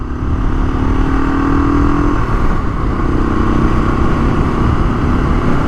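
An XL500 dual-sport motorcycle pulls away, its engine a loud, steady, close drone with a slight shift in pitch partway through.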